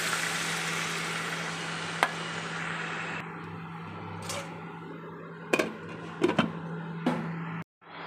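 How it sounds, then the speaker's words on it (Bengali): Water poured into a hot pan of sautéed vegetables sets off a steady, broad sizzle that fills the clip, broken by a few close clinks and scrapes of utensils before cutting off abruptly near the end. "এবার আমি জল দিয়ে দেবো।"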